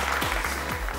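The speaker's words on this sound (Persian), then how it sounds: "حالا هر دو سرتیم ما تشویق کنیم" A game show audience applauds the two team captains in a Family Feud-style studio, a brief continuous wash of many clapping hands, loud and close, with a low rhythmic thump underneath.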